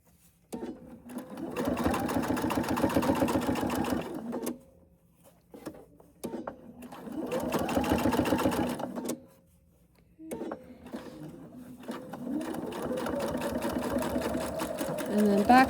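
A sewing machine top-stitches a small fold-and-store fabric basket in three steady runs separated by brief stops, with someone talking at moments between the runs.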